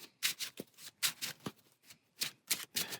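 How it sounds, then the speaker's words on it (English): A deck of environment cards from a theropod deck-building board game being shuffled by hand, several quick riffling bursts in an uneven rhythm, close and crisp with brief pauses between. "we'll take the rest of the environment cards, give them a shuffle"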